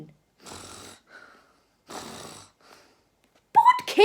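A narrator reading a children's story imitates loud snoring with two drawn-out, breathy snores separated by a short pause. A voice breaks in sharply at the end.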